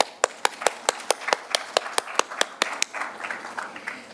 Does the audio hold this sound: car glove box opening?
no